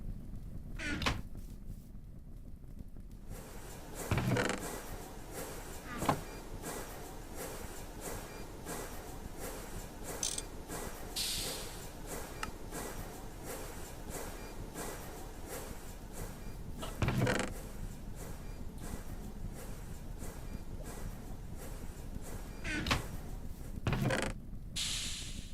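Wooden chest in Minecraft, in a modded GregTech New Horizons pack, opening and closing with short creaky clicks, several times over a steady low game ambience, fairly close, with no talk.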